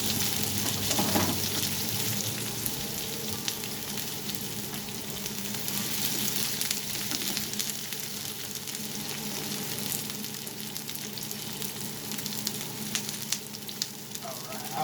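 Yellow onions frying in a hot pan, a steady close crackling sizzle that holds evenly throughout with faint stirring noises.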